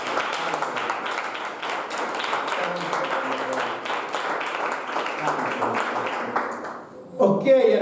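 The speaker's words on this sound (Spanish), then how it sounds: "Dale un aplauso." A church congregation applauds at a Sunday school service, with many hands clapping in a steady, moderately loud patter that fades near the end before a voice comes in.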